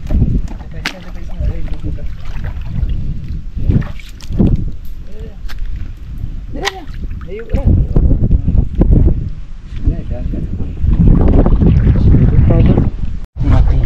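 Strong gusting wind buffets the microphone in loud low rumbles throughout, with someone talking over it outdoors.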